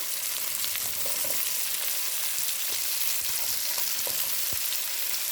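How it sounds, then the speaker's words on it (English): Sweet pepper hitting a hot pot for a Jamaican-style coconut milk steamed fish, giving a steady broadband sizzle with a few faint clicks of stirring, close and continuous without speech. "I'm gonna go ahead and put in our sweet pepper."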